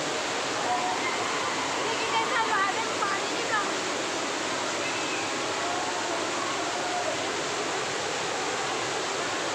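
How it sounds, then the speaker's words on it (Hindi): The waterfall at Jatmai Mata temple in Chhattisgarh, surrounded by trees, gives a steady, dense rushing roar that carries unbroken throughout with faint chirps above it. "झरने की कलकलाती ध्वनि"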